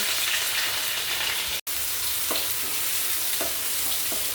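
Steady crackling sizzle of onions and curry leaves frying in hot oil, close up, with a brief clink partway through.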